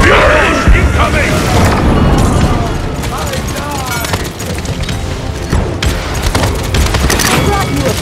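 Kraken's fury explosions in the Paladins video game, a dense run of loud booms and crashing bursts one after another under game effects and some voice.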